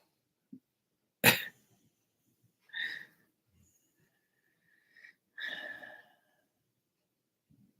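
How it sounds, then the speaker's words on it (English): A dog snores in a quiet room, giving a few separate rough, wheezy snorts with long silent gaps between them. "My dog is like snoring out of control over here."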